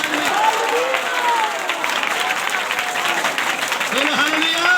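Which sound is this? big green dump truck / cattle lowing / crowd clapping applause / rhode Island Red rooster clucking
crowd clapping applause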